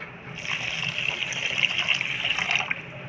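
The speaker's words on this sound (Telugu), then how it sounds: "1 కప్పు షుగర్కి 3/4 కప్పు వాటర్ పోసుకుంటున్నానండి" Steady water pouring in a continuous stream onto sugar for about three seconds, close and moderately loud, with no voices.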